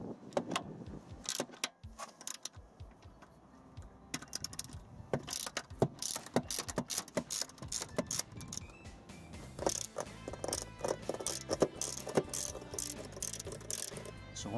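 Ratchet fitted with a 10 mm socket backing out wheel arch lining screws on a Mercedes W211 E-Class, giving bursts of rapid mechanical clicks close up, repeated in short runs throughout with no talking.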